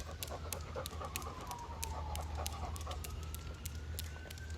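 A dog panting outdoors in a natural evening setting, a quick steady rhythm of breaths close by, fairly faint, over a low background hum and no talk.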